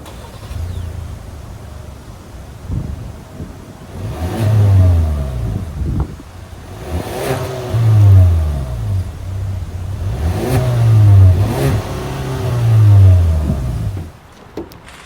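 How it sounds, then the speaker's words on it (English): A 2024 Ford Maverick XLT FX4 with a 2.0-liter turbocharged four-cylinder engine revs up four times in a steady pattern, each rise swelling loudly before settling back to idle, heard up close with no talking. "that was the sound of the 2-liter turbocharged 4-cylinder engine sold by Ford for the 2024"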